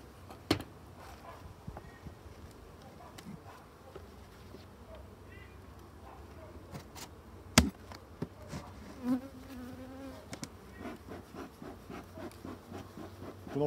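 Agitated colony of hybrid honeybees in a hive opened for a spring inspection, a steady close buzzing of many bees with occasional sharp knocks and handling noises from the hive.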